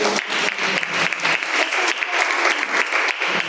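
A church congregation at a seminar service breaks into brisk, dense applause that holds steady for a few seconds without pause.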